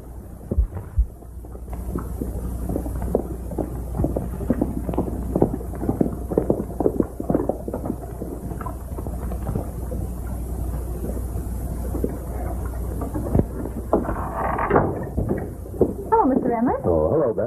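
Horses moving with a rapid irregular clatter of hooves and stagecoach rumble in an old frontier western, fairly faint and continuous, with a voice speaking over it near the end.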